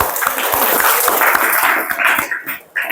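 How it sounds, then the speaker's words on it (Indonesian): A school class clapping hands together in rhythmic, evenly spaced claps, close and fairly loud, with children's voices mixed in toward the end. "Ayo, kita tepuk tangan."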